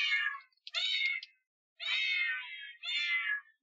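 Computer screensaver program with a cat in a box plays several short electronic cat meows in sequence, clear and close against silence.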